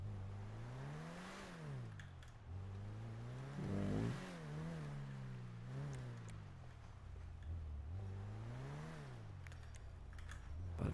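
Car engine in the GTA V video game, driving through snow and pulling in to park: a steady low hum with repeated rising and falling revs and gear changes, loud and continuous with no voices over it.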